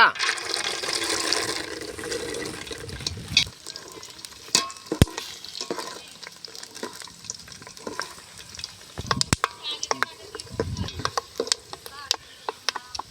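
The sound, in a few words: peanuts frying in hot cooking oil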